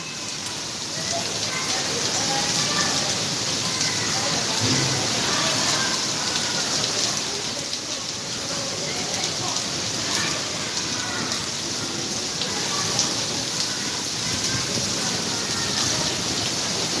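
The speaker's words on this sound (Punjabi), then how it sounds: "ਬਾਰਿਸ਼ ਦੇ ਵਿੱਚ ਮੀਂਹ ਦਾ ਆਨੰਦ ਮਾਣ ਰਹੇ ਹਨ" Heavy rain in Bathinda, Punjab pours steadily, a constant close hiss of drops on surfaces that never lets up.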